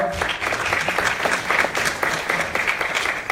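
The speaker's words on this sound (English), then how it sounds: "Let's have a round of applause." An audience at an academic lecture gives a visiting professor a sustained round of applause, many hands clapping in a dense, lively patter that holds steady throughout.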